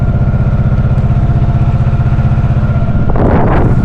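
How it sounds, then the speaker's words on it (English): A small high-revving engine runs steadily with a pronounced gearbox whine layered over a buzzing drone, then swells sharply louder near the end as it revs up. "it sounds slightly better, but the gearbox, the whine from the gearbox is quite noisy"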